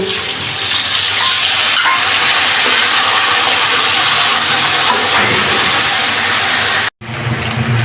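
Potatoes fry with ground spice paste in a hot pan, giving a loud, steady sizzle and hiss that runs almost unbroken before a brief dropout near the end.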